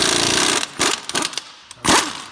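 An impact wrench fitted with a thick Matco harmonic balancer socket hammers at a crank bolt on a 2005 Acura MDX during a timing belt job, loud rattling bursts separated by short pauses, close and harsh, with no talk.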